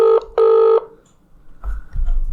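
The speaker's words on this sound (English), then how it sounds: "That phone in that shop is going off right now" A telephone in a shop rings twice in quick, loud electronic bursts, followed by quieter low thumps and noise.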